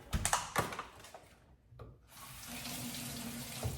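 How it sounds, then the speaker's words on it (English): Tap water runs close by while vegetables are rinsed under a kitchen faucet. Splashy bursts give way to a brief lull and then a steady, even stream. "We'll just run them through the water one more time."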